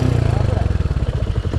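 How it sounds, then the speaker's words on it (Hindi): Royal Enfield Hunter 350 motorcycle engine running at idle just after starting, a close, steady thumping pulse with someone speaking over it. "तो भाई बाइक स्टार्ट हो चुकी है।"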